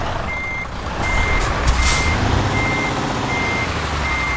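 Steady electronic reversing beeps from a truck in Euro Truck Simulator 2 repeat at an even pace, loud and close over a low diesel engine rumble with a brief hiss partway through.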